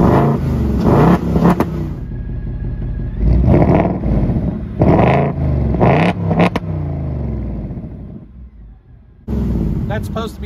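Engine of a 2024 Ford Mustang GT revved by remote to about 5,000 RPM, several loud rising bursts separated by brief idle gaps, with speech-like energy overlapping.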